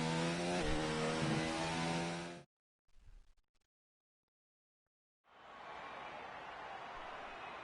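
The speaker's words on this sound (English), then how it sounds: "Engine sounds!" F3 race cars in a sim racing game, engines droning loud and steady with high revving harmonics, cutting to near silence with a faint thump, then returning as a broad, steady engine roar.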